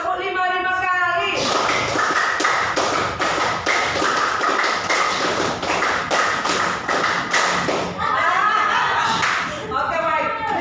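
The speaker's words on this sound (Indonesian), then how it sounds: "Tepuk 5 kali." A classroom of students claps together in a counting clap game, a run of sharp, rhythmic claps and thumps in quick succession, with voices and some laughter before and after.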